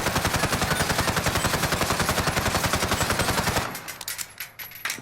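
Submachine gun fire in Call of Duty Modern Warfare, a long loud uninterrupted burst of rapid evenly spaced shots lasting over three seconds, then fading into scattered clinks and echoing tail.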